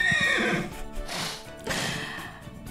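Horse in The Sims 4 gives a loud whinny at the start, followed by two more breathy snorts and neighs at an even volume, with no talking.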